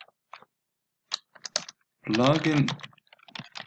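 Fingers type a command on a computer keyboard to install a Cordova camera plugin, giving sparse, soft clicks. A brief stretch of talk sits in the middle, then light tapping resumes.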